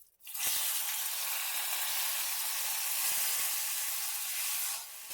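Chopped medium tomato tipped into hot oil tempering in a pan sets off a loud, steady sizzle and hiss that lasts several seconds before easing off at the end.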